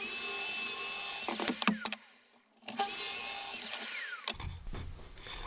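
A small bandsaw cuts through 18mm birch plywood, a loud steady whine through the cut, then a short near-silent pause as the blade clears before cutting resumes and ends with a low rumble.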